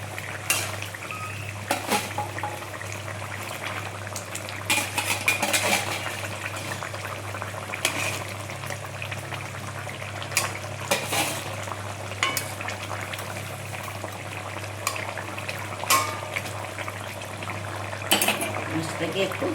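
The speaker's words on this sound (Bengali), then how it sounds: "ঝোল ফুটে গেছে, এবার আমি মাছ দিয়ে দিই।" Fesa fish (Indian anchovy) goes into a simmering Bengali jhal curry broth, a steady bubbling and sizzling hiss with occasional clinks and stirring, under intermittent talk and a low constant hum.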